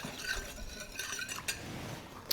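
A spoon stirs boiling water with sugar and lime gelatin in a bowl, giving soft, steady scraping and faint clinks against the sides at close range.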